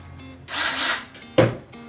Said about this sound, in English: you take your drill and you drill holes through the top and the bottom